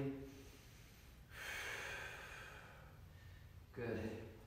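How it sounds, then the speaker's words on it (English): Heavy breathing during a HIIT workout: two loud, breathy exhales about two and a half seconds apart, close to the mic, with a soft inhale between. "And we're breathing"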